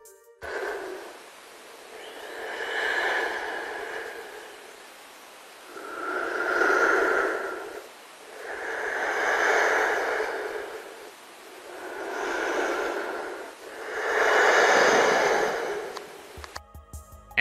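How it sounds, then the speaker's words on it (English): A creepy heavy breathing effect from the Poppy Playtime video game, five slow, drawn-out breaths rising and falling in an even rhythm, close and airy with a quiet gap between each. "there's a pretty creepy sound effect of some heavy breathing"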